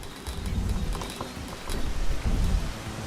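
Heavy rain in the video game Rain World pours down as a dense, steady hiss, with low rumbling swells underneath.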